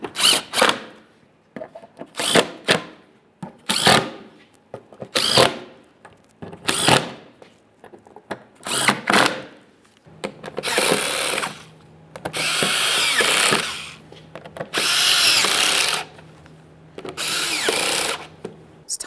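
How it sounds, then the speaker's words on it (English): A power drill tightens mounting bolts on a 2013-2020 Ford Fusion 2.0L during an intercooler replacement. It makes a series of short, close whirring bursts, and longer sustained runs follow later. "Let's continue on tightening all the mounting bolts."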